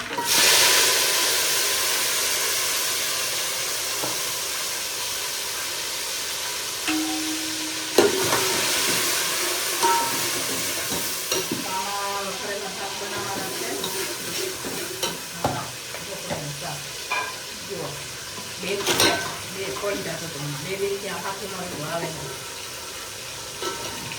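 A vegetable tempering sizzles and fries in a hot pan in a home kitchen, with repeated scraping stir strokes and clinks building after the first few seconds, while people talk faintly in the background.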